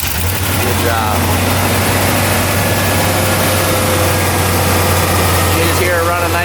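A car engine idles steadily just after being started, running smooth and even with a faint exhaust flutter, close and continuous throughout with a voice speaking over it.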